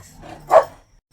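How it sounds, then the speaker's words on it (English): A single short dog bark rings out from one of a pack of eight happy dogs at home, a sharp mid-range yap over faint background noise. "I have very happy dogs"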